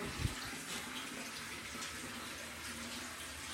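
Hot water running from a tap in an upstairs bathroom of a house: a steady, soft hiss and splash of flowing water, faint and continuous, with a small knock near the start.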